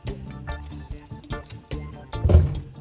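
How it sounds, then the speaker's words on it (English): Carrots rinsed by hand in water in a home kitchen, with irregular squishy splashes and drips that build into a louder slosh near the end, no talking. "So we're going to wash our carrots now."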